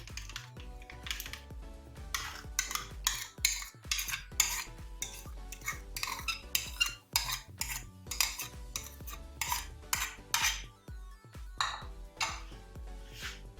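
A spoon clinks and scrapes steadily against a metal bowl while stirring yogurt into a biryani masala marinade, a quick irregular run of bright taps close by.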